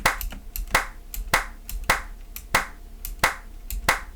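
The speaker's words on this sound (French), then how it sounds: "Quelqu'un qui se prend une gifle." Sharp face-slap sound effects used in video editing, a series of about eight crisp, loud smacks spaced at fairly regular intervals, heard alone with no talk.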